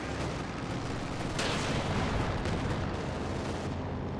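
Gunfire and artillery in Company of Heroes 2 battle, dense rumbling volleys and distant blasts layered continuously, with a louder burst near the middle and no speech.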